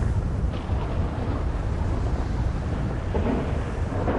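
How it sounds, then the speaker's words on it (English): Loud thunder from lightning in the video game GTA Online, a dense, sustained low rumble that fills the whole stretch with no talk over it. "I think I heard the lightning pretty loud in my headphones"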